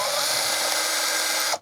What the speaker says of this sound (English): I'm just gonna start drilling here.